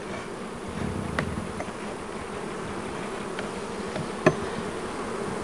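A steady hum of many honey bees buzzing close by around a hive, with a few faint knocks and one sharp tap partway through.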